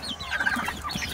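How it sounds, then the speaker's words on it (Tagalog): Chickens clucking close by in a short, soft run of calls lasting about a second. "Dito naman mga manok."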